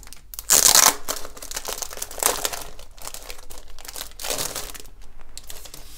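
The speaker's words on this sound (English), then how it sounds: "we're just going to unwrap this plastic that comes on the tablet." Protective plastic film is peeled and crinkled off a new Amazon Fire HD 8 tablet (2020), giving close, crisp rustling and crackling bursts with a sharp tearing crackle near the start and no talking.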